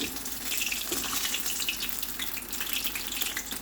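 Milk poured into sautéed manathakkali spinach in a pan for keerai kadaiyal, a continuous watery hiss and gentle sizzle running steadily and close.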